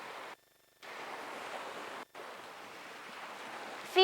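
A soft, steady wash of ocean surf with a breezy hiss, broken by two short silent gaps, ending with a faint brief tonal blip; no one speaks.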